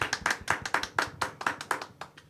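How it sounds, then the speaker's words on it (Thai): An audience at a Thai idol singing competition show claps on request: quick, even, fairly close handclaps repeating about six times a second for a couple of seconds, with no talking. "ปรบมือสิครับปรบมือครับปรบมือครับ"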